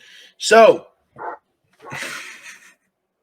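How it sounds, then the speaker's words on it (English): A dog barks in the background, giving a loud yelp and then two shorter bursts of barking, mixed with a person talking. "I apologize for the barking in the background."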